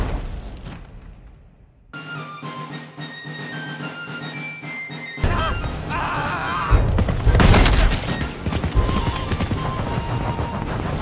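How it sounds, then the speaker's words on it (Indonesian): Gunfire rings out in a war film scene as soldiers are shot, a burst of shots and booms over background score, with heavier impacts building toward the end. "Beruntung dari luar muncul Fan Chuan yang langsung menembak para tentara itu."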